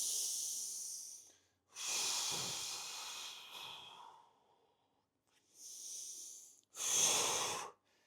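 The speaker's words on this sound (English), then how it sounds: "Inhale, exhale as you push back." Slow, deliberate breaths during a hamstring stretch, heard close up: a long airy inhale-exhale pair, a pause, then another breath in and a sharper breath out, with no talking.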